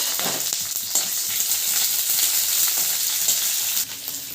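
A large onion hits hot mustard oil with cumin in a wok, giving a loud, steady sizzle and crackle with a few scraping stirs, close and without talk.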